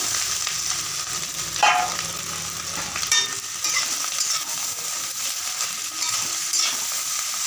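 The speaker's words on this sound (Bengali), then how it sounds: "এবার আমি তার মধ্যে দিয়ে দেব সিদ্ধ করা পাস্তাটা দিয়ে দেব" Boiled pasta tossed and stirred in a frying pan over a constant hiss of frying, with a spatula scraping and occasional clinks against the metal, close and moderately loud; no talking.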